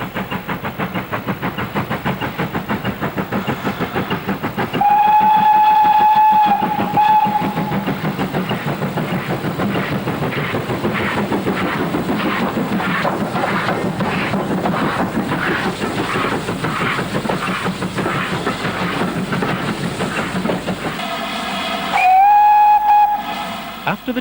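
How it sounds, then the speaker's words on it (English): Steam locomotive 4277, a 2-8-0 tank engine, climbs a 1 in 49 grade towards Goathland on the North Yorkshire moors, its rapid rhythmic exhaust beats loud and steady, with two long whistle blasts near the start and again near the end. "4277 makes its final approach towards Goathland, still on the 1 in 49 grade"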